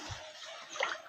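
Water from a small jungle stream sloshes and gurgles briefly, quiet and close, with a slightly brighter splash near the end.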